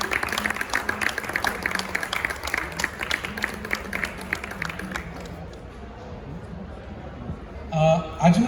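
An indoor audience applauds to welcome a guest speaker, Dr. Chintan Madhu, at a talk event: dense, steady clapping from a sizeable crowd that fades out after about five seconds, leaving a quiet room before brief voices.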